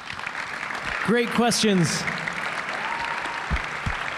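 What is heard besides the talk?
applause for Jae Crowder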